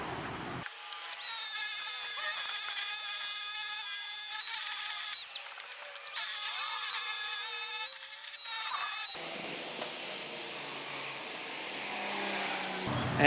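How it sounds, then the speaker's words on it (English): A variable-speed polishing wheel, run slower than an angle grinder, buffs stainless steel parts for a homemade hot tub, giving a steady high whine with strong harmonics, cut by a brief pause near six seconds, before it gives way to a duller, rougher hiss. "So I've got this old polishing wheel on there. We will polish it with that."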